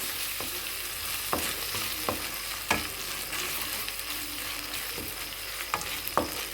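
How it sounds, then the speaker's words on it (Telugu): Ginger-garlic paste frying in a kadai for kadai paneer, a steady soft sizzle punctuated by regular spatula scrapes and taps against the pan, with no voices. "అల్లం వెల్లుల్లి పేస్ట్ అనమాట ఇది ఇలా ఎర్రగా ఏగనివ్వండి"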